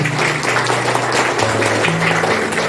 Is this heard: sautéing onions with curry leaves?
no